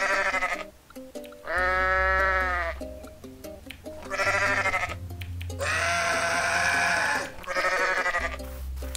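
Several loud, wavering goat bleats in the Goat Simulator video game, long nasal cries repeated one after another with short gaps, close and prominent.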